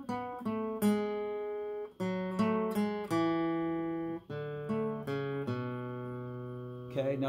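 Guitar playing a riff, clear plucked notes and ringing open strings in a flowing phrase, alone and close.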